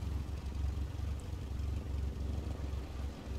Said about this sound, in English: Now let's listen to the engine for a bit.